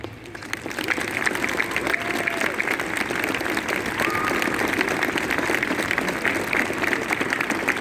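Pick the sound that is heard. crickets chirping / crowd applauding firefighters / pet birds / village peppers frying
crowd applauding firefighters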